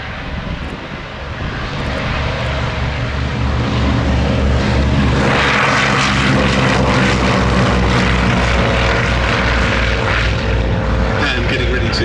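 A Polikarpov Po-2 biplane at Shuttleworth, its propeller engine running up for takeoff with a loud, steady droning throb that builds after the first seconds, with voices talking faintly in the background.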